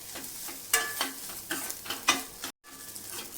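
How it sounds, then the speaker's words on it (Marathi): Onion frying in a pan for a Maharashtrian katachi amti, a steady close sizzle broken by several sharp scraping stir strokes and a brief dropout near the end, with no talking. "कांदा लालसर होईपर्यंत आपल्याला छान भाजून घ्यायचं आहे"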